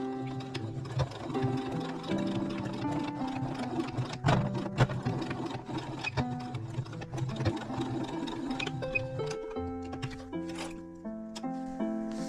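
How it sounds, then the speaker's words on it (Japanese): A sewing machine runs in steady bursts as it stitches across the bottom of a fabric pouch, with a constant close mechanical whir and brief pauses, no voices. "ここ4センチのところを 4センチ底を縫います"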